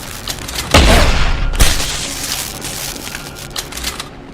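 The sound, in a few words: gunshots in video game Deus Ex: Human Revolution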